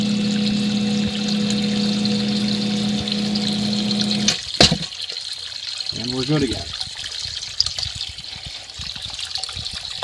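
A battery backup sump pump pushes out a steady rushing stream of water in a basement sump pit. The water noise runs continuously, shifts after a sharp knock midway, and someone speaks briefly over it.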